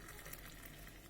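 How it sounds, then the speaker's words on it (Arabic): Hot water poured onto a mixture of orange and lemon, a steady broadband watery rush that fills the whole second with no talk over it. "وهنصب عليه ميه سخنه"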